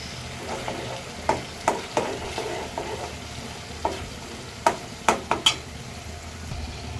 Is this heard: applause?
no